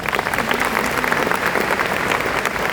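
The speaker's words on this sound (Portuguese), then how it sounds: "uma salva de palmas às crianças" Steady, dense applause from a full congregation at a Catholic Mass honoring the children, continuous clapping throughout with no talking over it.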